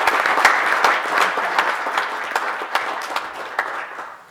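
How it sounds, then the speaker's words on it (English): Audience at a city council meeting applauds, a steady wash of clapping with crisp individual claps standing out, gradually thinning toward the close. "just want to give you a round of applause for your work on this"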